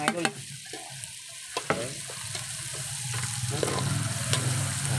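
Ginger and black pepper sauté in a pan for lugaw, a soft sizzle rising steadily after a few sharp clatters of utensils, with one brief spoken word near the start.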